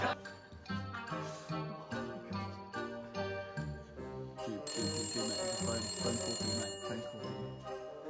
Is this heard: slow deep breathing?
no